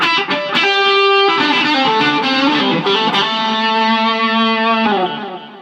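An electric guitar plays a lead line through a Boss ES-8 pedalboard preset with a wet tone of delay and reverb: loud sustained notes with repeating echoes and a lingering tail fading at the end, no speech.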